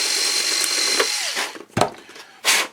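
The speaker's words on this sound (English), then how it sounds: "we're going to drill a hole in that corner," A power drill bores a hole in a corner of a building project, giving a steady high whine that fades out, then a short thump and a brief final burst of the motor, close and fairly loud.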